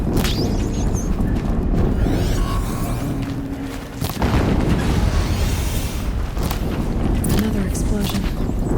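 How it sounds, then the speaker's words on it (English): Explosions in the action game Horizon Zero Dawn: a dense, loud rumble of combat with a heavy boom around the middle and further blasts after it, while voices speak throughout. "Another explosion."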